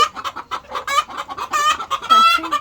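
Frightened hens on a large farm, foraging on leafy greens, cluck and squawk loudly and close by, a rapid, overlapping stream of agitated calls with no talk.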